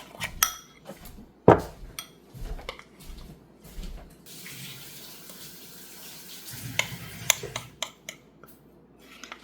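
Biscuit batter being mixed in a cup, with a utensil scraping and clinking irregularly against the sides, several sharper knocks standing out among softer stirring sounds, close up and with no talking.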